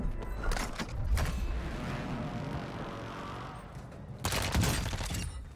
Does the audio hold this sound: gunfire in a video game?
yes